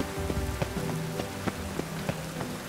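Steady rain falls in The Witcher 3, a dense hiss of drops on surfaces with regular soft patters, alone and at an even, moderate level.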